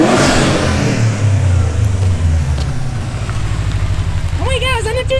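A Subaru STI engine revs hard close by, a loud rough roar that rises and falls, and someone shouts excitedly over it near the end.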